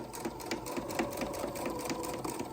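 A sewing machine stitches a fabric bib in a quick, even rhythmic chatter, moderately quiet and continuous without talk.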